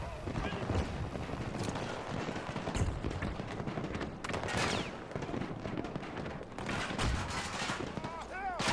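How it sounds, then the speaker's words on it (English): Gunfire in the video game Battlefield 2042, on the Breakaway map, with sharp shots and bursts scattered through a busy, dense battle mix of explosions and effects. "Where are those shots coming from?"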